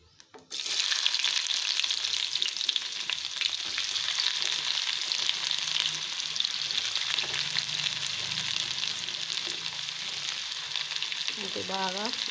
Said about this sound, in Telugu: ఇది బాగా గోల్డెన్ కలర్తో ఫ్రై చేస్తున్నాను.